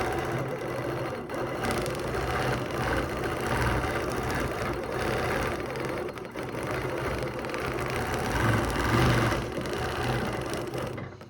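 A sewing machine runs steadily as it stitches fabric along a ruler foot, a close, even mechanical whir with a fine rapid needle rhythm and slight surges in speed, no talking.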